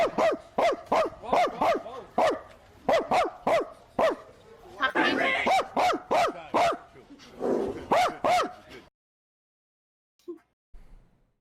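A dog barks in rapid bursts of repeated loud, close barks over about eight seconds, then falls silent apart from a couple of faint noises.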